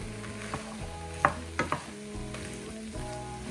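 Food sizzling and frying in a pan after being tossed in, a steady close crackle with a few sharp knocks of utensils against the pan.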